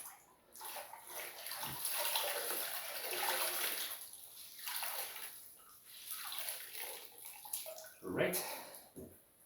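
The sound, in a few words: rinsing hand-washed laundry in cold water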